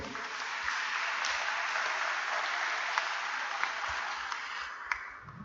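Steady, dense applause from a church congregation at a Catholic Mass in Cunén, Quiché, Guatemala, sustained evenly throughout with a few sharper claps standing out near the end.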